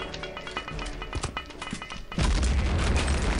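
A sudden, loud booming explosion from the 2003 shooter Return to Castle Wolfenstein (Operation Trondheim mod) erupts partway through, following a stretch of busy game noise and rumbling.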